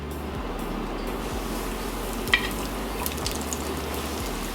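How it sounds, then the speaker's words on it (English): Seitan pieces frying in hot oil for vegan fried chicken, a steady close crackling sizzle with low bubbling throughout and a few sharp pops, no talking. "let's go ahead and start frying what we have. Starting off with our seitan pieces."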